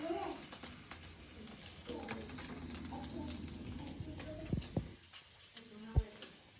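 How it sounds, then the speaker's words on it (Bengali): Tuna fish frying in a pan, a quiet steady sizzle with a few utensil clinks and stirring near the end, heard with intermittent talk around it. "টুনা মাছ ফ্রাই করছি, ফ্রাই।"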